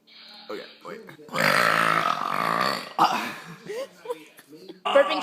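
Several drawn-out burps erupt during a burping contest, one long croaking belch in the middle followed by shorter bursts, with people talking around them.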